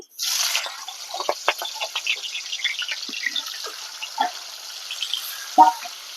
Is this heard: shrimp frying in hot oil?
yes